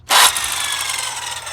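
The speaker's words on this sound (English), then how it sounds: "So maybe we'll try circular saw." A circular saw bites into wood with a sudden loud whine that settles into a steady, slightly wavering cutting drone, close by and with no voices.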